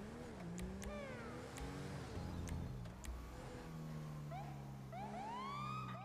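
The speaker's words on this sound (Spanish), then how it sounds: "Hay una sirena que suena triste." A police siren wails in a GTA roleplay video game, rising and falling tones over car engine noise, with short yelping bursts toward the end.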